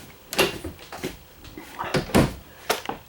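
Pantry door inside a 2024 Wildwood 29VIEW RV is worked open or shut, giving several short knocks, clunks and latch clicks close by, with no talking.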